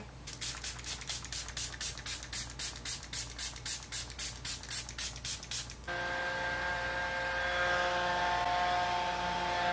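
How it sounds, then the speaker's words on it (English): Delba First Spray Serum setting spray misted in a rapid, even series of about fifteen close, hissing spritzes over six seconds, then giving way to a steady whirring drone. "I'm gonna set with what is pretty much my favorite spray right now"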